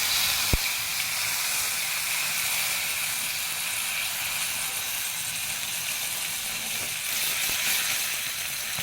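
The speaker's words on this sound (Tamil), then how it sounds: "அப்புறம் இந்த பாருங்க, கடுகு பொரிஞ்சிச்சு. இப்போ கருவேப்பிலையை போட்டணும்." Curry leaves and popped mustard seeds fry in hot oil while sambar is made at home, giving a steady, even sizzling hiss throughout, with one sharp little crackle near the start.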